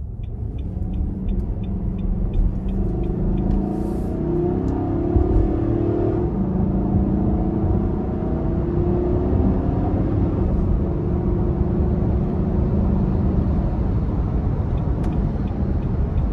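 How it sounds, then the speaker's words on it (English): A 2024 Nissan Armada SL Midnight Edition with its 5.6-litre V8 pulling hard onto an interstate, a loud, steady engine rumble with low road roar heard from inside the cabin throughout. "we're going to give it a nice big pull getting on the interstate here"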